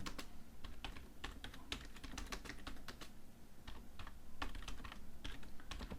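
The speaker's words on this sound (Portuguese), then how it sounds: "nós vamos começar a digitar um texto" Rapid typing on a computer keyboard while entering text in WordPad on Windows: a steady stream of close, crisp key clicks in uneven bursts with a few brief pauses, over a faint room hum.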